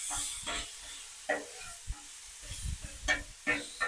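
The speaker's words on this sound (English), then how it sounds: "Steak meat's heating up." Steak meat sizzles as it heats on a griddle, a steady hiss of frying punctuated by scraping and stirring clatters from a spatula, close and fairly loud.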